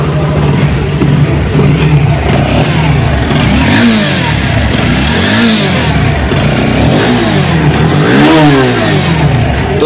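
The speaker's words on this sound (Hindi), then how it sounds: "थ्रोटल खींच के दिखा दूँ" Bajaj Pulsar NS 160 BS6 motorcycle engine held at a steady loud idle, rising in several throttle revs around the middle and end, close by.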